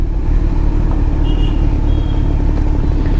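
A Kawasaki Z900 superbike fitted with an Austin Racing slip-on exhaust rumbles steadily at idle, a loud, close, deep continuous engine drone with no talk over it.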